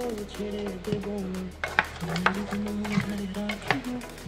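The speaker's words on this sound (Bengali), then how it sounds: "ভালোভাবে মিশিয়ে দিচ্ছি যাতে নুনটা আর হলুদটা যাতে এঁচড়ের মধ্যে ঢোকে।" Boiled jackfruit being stirred in a pan with water, salt and turmeric, with a spoon scraping and clinking at an uneven rhythm over a low background hum and a faint voice-like tone.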